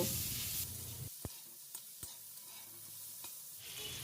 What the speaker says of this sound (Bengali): তাতে লঙ্কা ফোড়ন দিয়ে পেঁয়াজটা ভাজতে দেব